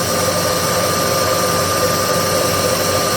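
A Bridgeport milling machine cuts into a tube with a loud, steady mechanical drone and grinding that holds without a break from start to finish.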